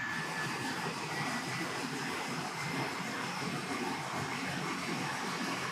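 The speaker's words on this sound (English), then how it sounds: "these diesel engines are very loud" Steady, loud engine rumble with a broad roar and no breaks from old diesel locomotives from the 1960s or 70s, close by on a train ride from Colombo to Hikkaduwa, Sri Lanka.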